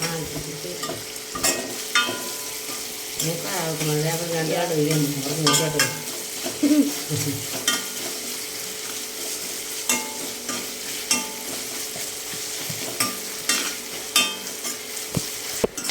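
Chopped ginger sizzles steadily in oil in a pan as it is stirred toward brown for inji curry, with repeated scraping strokes and light clinks of the spoon over a continuous close frying hiss.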